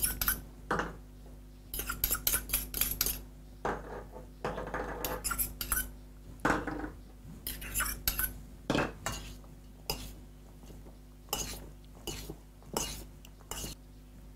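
Couscous salad ingredients, including preserved lemon and chopped coriander, are tossed together in a bowl for a Mediterranean duck salad. A spoon scrapes and clinks against the bowl in irregular bursts, close and fairly quiet.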